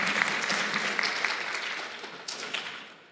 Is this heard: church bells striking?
no